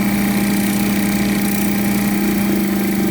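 An old Atlas spray paint pump runs steadily, pumping air, with a loud continuous motor hum and buzzing drone that stays constant throughout, heard close up and alone.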